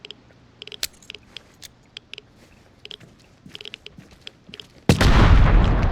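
A grenade goes off in the Vigor video game as one sudden, loud, dense blast that follows a spread of scattered faint clicks and taps.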